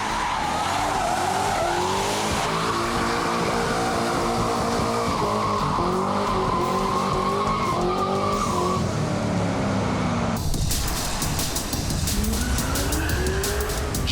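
A $100,000, 320-horsepower sports car spins donuts, its tires squealing in long, wavering, loud howls over a revving engine, with a brief break before the skid resumes near and harsh.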